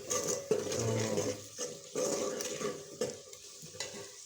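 Washed potatoes frying and being stirred in a pan for a spicy aloo dal sabzi, with steady sizzling and repeated scraping strokes of a spoon against the pan, close and continuous, no talking.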